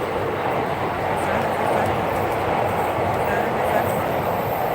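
An electric train in Ueno, Japan, rumbles past in a steady, dense roar that fills the whole moment, with a voice faintly underneath.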